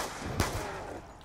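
A single sharp gunshot from Black Ops 2 Zombies, set on the Buried map, cracks once near the start and then fades out over a lingering low rumble of game ambience.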